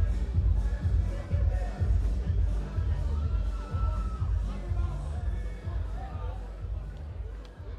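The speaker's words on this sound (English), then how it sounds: "ladies and gentlemen, a big round of applause, please, for both of these men after 5 hard-fought European title rounds" Arena crowd roaring and cheering after a five-round European kickboxing title fight, a dense steady wall of crowd noise with scattered whoops and yells throughout.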